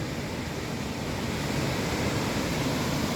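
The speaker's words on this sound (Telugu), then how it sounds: "ఓహో, ఎంత పెద్ద వస్తున్నాయి అలలు" Big ocean waves roll and crash at Vizag beach, a loud, continuous roaring wash of surf with wind buffeting the microphone, close and unbroken for the whole stretch.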